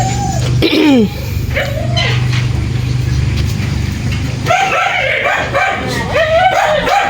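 Dogs bark and yelp in several short bursts, some high and whining, over a low engine hum, followed by a flurry of overlapping yips.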